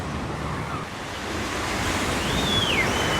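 Waves and surf roll onto a family beach at Penha, Santa Catarina, a steady broadband wash of breaking water and wind that swells slightly louder toward the end, with no voices.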